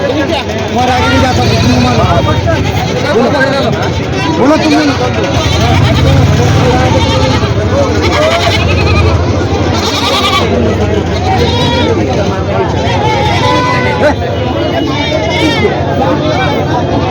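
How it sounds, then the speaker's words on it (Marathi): Goats bleat repeatedly amid a busy crowd, with voices chattering and overlapping throughout a noisy goat market in Vasmat, Hingoli district. "या ठिकाणी मित्र संपूर्ण बकरी आहेत"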